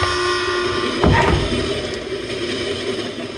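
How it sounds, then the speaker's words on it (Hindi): A Bombay local train runs with a steady, loud rumble of wheels and carriages, and a brief horn-like burst rises about a second in before the clatter settles. "बंबई की लोकल ट्रेनें,"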